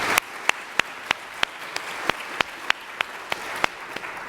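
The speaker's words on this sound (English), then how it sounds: "let's give them a round of applause" Applause at a research administrators' symposium, heard as a steady series of sharp, evenly spaced claps, moderately loud, with no talking.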